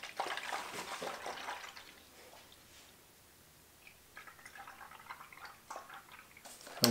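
Coolant drains from a dirt bike radiator in a garage, a faint trickling, splashing flow that swells at the start and again near the end, quieter in between, with no talk.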